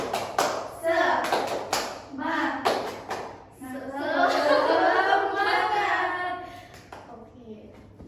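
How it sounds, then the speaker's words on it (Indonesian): A fifth-grade class performs a rhythmic spirit clap during a microteaching lesson: a series of sharp clap patterns, then children chanting together, then a few softer claps near the end. "Tepuk semangat."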